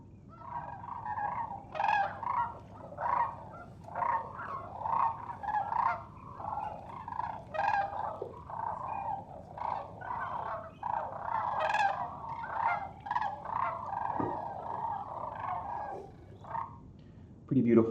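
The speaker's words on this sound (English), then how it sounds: "So this is what the cranes sound like." Cranes call in a field recording, a chorus of repeated bugling and trumpeting cries rising and falling over steady outdoor background noise.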